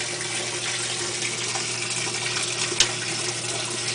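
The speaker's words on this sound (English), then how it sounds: "It's in the rinse cycle now." A GE Hotpoint washing machine in its rinse cycle gives a steady, even wash of running water with a low hum underneath, plus a single brief click near the end.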